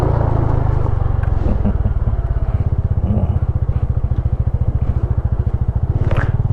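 Yamaha PG-1 motorbike ridden in Vietnam near the beach, its small engine putting out a loud, steady, close throbbing putter throughout, with faint clatter and road noise over the top.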